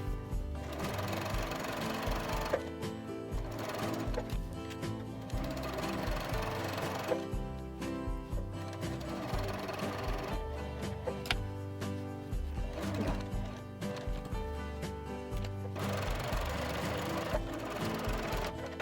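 A sewing machine back-stitches a fabric pocket, a rapid mechanical whirring chatter running in bursts with short pauses between runs, close and steady throughout.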